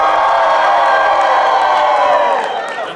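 A college comedy show audience erupts in loud cheering and whooping, a dense wash of many voices shouting together, sustained for a few seconds before starting to fade.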